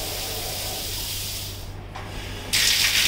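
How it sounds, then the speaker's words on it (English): A soft rushing background gives way to a sudden, loud hiss of water spraying from a 19x13 ceiling shower in rain mode that continues to the end. "rain shower"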